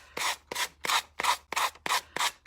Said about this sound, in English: I actually use a sanding block